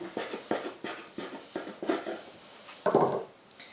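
A knife slicing off the edges of a fluffy walnut and coconut sponge cake: a series of soft, short scraping cuts in an uneven rhythm, close and faint, with a slightly louder rasp near the end.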